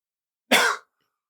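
A single sharp, loud cough bursts out alone, lasting about a third of a second and surrounded by silence.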